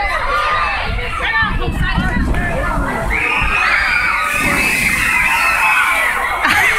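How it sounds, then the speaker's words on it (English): Fountain water sprays over a crowd of onlookers in Boston, with splashing under a steady din of shouting children and excited voices close by throughout. "the water sprayed over me"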